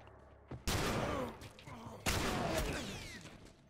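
Two loud, close gunshots ring out in The Last of Us, about a second and a half apart, each followed by a long echoing tail.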